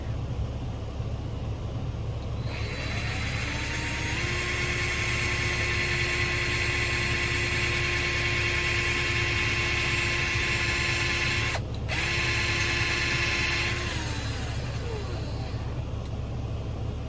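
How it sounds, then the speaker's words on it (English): A power drill bores a hole near the bottom of a plastic garden bucket, the motor whining up to speed, running steadily for about ten seconds with a brief stall midway, then winding down. "I am going to be drilling a hole right here where I just put the mark."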